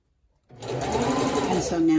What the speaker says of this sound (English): Again, I'm sewing it right up against the edge of the seam.